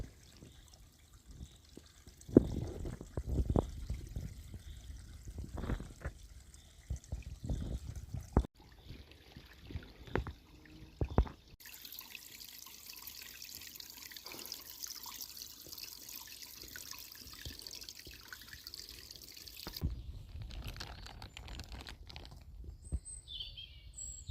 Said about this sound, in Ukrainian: Це гірський потічок у лісі.